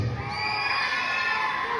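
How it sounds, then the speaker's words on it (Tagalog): A crowd at a drag queen show in Dasmariñas cheers and shouts continuously, with sustained whoops filling the room loudly throughout. "Muli po ninyong palakpakan at sigawan"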